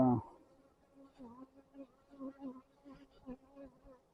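Honey bees buzzing close by at a hive, wavering and intermittent, after a brief clunk at the start.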